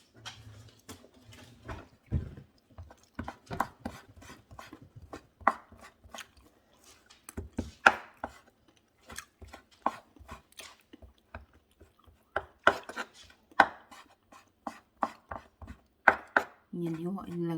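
A knife chopping carrot into small pieces on a board, irregular crisp knocks in quick bursts separated by short pauses, close and clear.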